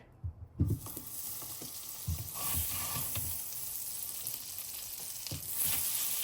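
Butter sizzling as it goes into a hot pan on the stove, a few clatters at the start, then a steady, close frying hiss with occasional stirring knocks, no talk.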